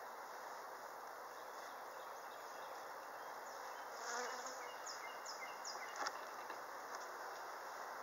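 Many bees drone steadily around a beehive during an April apiary check, a soft continuous buzz with brief louder passes as individual bees fly close, no talking.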